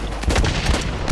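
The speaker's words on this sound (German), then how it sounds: "jetzt wäre die Granate fast in meiner Hand explodiert" A grenade blast and gunfire in the online shooter Blacklight Retribution make a loud, dense barrage of booming impacts and rapid shots that keeps going without a break.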